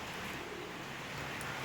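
Pigeons flying in the rain give soft coos over a steady broadband hiss of rainfall, close and continuous through the short stretch.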